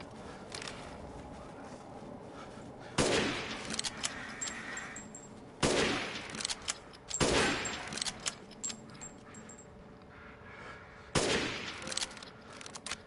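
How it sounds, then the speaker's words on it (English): Sniper rifle shots in Resident Evil Village, four loud isolated reports spaced a few seconds apart over a quiet game ambience with faint footsteps and small clicks. "So I will pull out the sniper for this."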